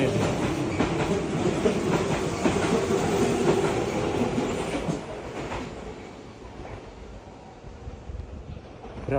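A train rolls along the line toward a stop at about 9:40 on a route to Osaka, with loud rumbling and clickety-clack from the wheels that gradually quiets, plus some wind noise on the microphone.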